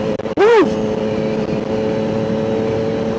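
A 2025 Triumph Trident 660 motorcycle with an upgraded exhaust gives a sharp rev that rises and falls, then settles into a loud, steady engine drone close by.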